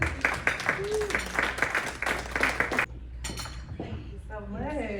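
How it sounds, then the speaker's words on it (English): Warm applause at a live poetry performance in a Dallas mosque: steady clapping with clattering texture for a few seconds, then a voice begins speaking. "bring our sister down with a warm round of applause"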